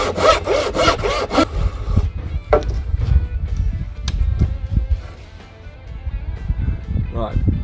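A handsaw cuts through a wooden tenon on a frame for wooden screens, with close rhythmic rasping strokes, quick at first, then slower, irregular cuts with scraping.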